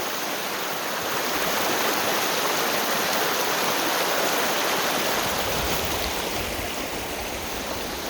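Rushing creek water on the Howse River floodplain surrounds someone wading across, a loud, broad, continuous wash of flowing water with no pause.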